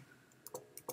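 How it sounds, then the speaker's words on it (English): Mouse double-clicks while editing text in Apple Pages: a few quiet, sharp clicks in pairs, faint and close, with no talking. "all I'm going to do is double click."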